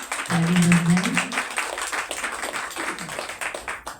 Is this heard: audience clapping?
yes